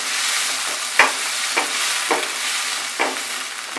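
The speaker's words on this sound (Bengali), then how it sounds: "সবজিগুলো কিন্তু খুব ভালো করে আঁচটাকে মিডিয়াম ফ্লেমে রেখে ভাজতে হবে।" Carrot, cauliflower and beans fry with salt in a pan over medium flame for vegetable fried rice, giving a steady bright sizzle broken by four or five sharp scrapes of a stirring spoon.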